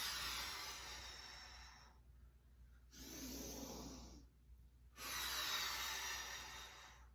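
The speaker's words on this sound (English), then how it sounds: "you're going to roll down and breathe in or sniff your pit. You're going to roll up and breathe out hard" Hard, forceful breaths during a martial arts mobility exercise: a long rushing exhale, a deep inhale, then another long exhale, close and breathy with quiet gaps between.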